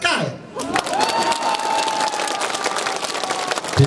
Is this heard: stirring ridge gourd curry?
no